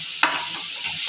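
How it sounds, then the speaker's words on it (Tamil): Spices, including turmeric, coriander and chilli powder, are stirred in a frying pan with a quick scrape of the spoon over a soft, steady sizzle, close up and brief, with no talking. "இப்போ எல்லாத்தையும் போட்டு நல்லா மிக்ஸ் பண்ணிக்கலாம்."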